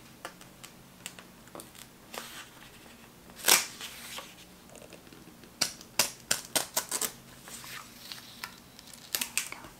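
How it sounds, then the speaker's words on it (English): A sheet of paper is torn out of a pad in a quiet, close-miked room. Soft rustling leads into one sharp rip, followed by a quick run of crisp tearing and crinkling bursts. "I'm going to go ahead and tear out one of these sheets of paper here"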